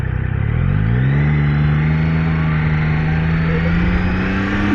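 A Triumph Daytona 660 motorcycle accelerates with its engine revving loud and close, the pitch climbing through a gear and then holding a steady drone under heavy wind rush.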